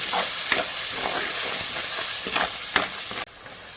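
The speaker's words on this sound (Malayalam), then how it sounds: "അരപ്പ് നല്ലോണം മൂക്കുന്നവരെ ഇളക്കി കൊടുക്കുക." A steady frying hiss fills the pan as a utensil scrapes and stirs ground spice paste for a mango fish curry in regular strokes, then the sizzle abruptly drops in level near the end.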